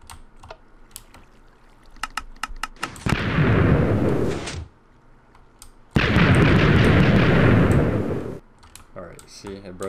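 Two long, loud roaring bursts from a hybrid sand stacker TNT cannon in Minecraft, each lasting a couple of seconds, with faint clicking in between and no talk.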